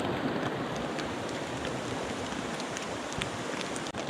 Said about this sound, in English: still raining, of course.